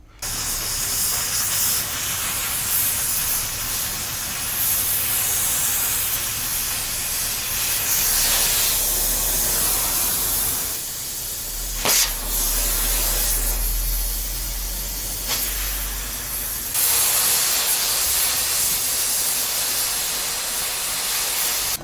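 A cutting torch slices through a steel bracket with a continuous loud, roaring hiss close by, briefly deepening into a heavier rumble and sharp pops midway, with no talking.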